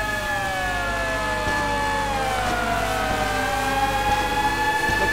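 A wailing siren in Grand Theft Auto V rises and falls steadily, loud and close, with several overlapping tones sweeping continuously and no talk over it.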